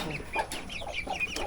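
Hens cluck softly in quick, overlapping bursts, close by, a small flock chattering over low background noise.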